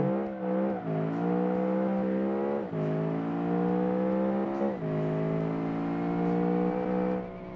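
A tuned stock car engine in the Automation car game, traction control off, with a diesel-like exhaust note. It revs loudly through the gears, its pitch climbing and then dropping at each of several shifts, steady and alone without talk.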